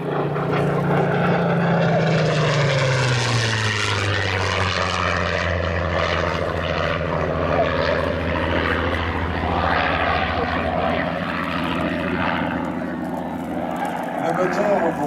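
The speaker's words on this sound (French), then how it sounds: "Le moteur au bruit si joli, ce n'est pas un Merlin, c'est un Griffon." A Spitfire with a Rolls-Royce Griffon engine flies past at an air show in Pontoise, its loud propeller drone falling in pitch as it passes and staying strong throughout, with someone commentating over it.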